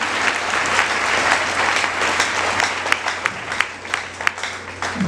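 A church congregation bursts into sustained applause, a dense wash of many hands clapping with some sharper individual claps standing out toward the end, under a low steady hum.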